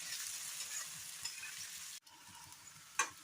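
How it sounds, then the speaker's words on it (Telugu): Onions frying with a pinch of salt in a pan give a steady, close sizzle broken by light stirring scrapes and clinks, with a short gap partway through before the hiss resumes and a sharp clink near the end. "ఇది కొద్దిగా బ్రౌన్ కలర్ వచ్చేంత వరకు వేయించుకోవాలి ఆనియన్స్ని"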